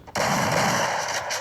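A single loud gunshot in a video game headshot, an abrupt close blast that rings on with a sustained noisy tail for over a second.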